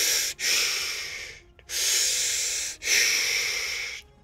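A voice imitates heavy, mechanical Darth Vader-style breathing over a ship's comms: three long, loud, hissing breaths close to the ear, separated by brief pauses, with no talk.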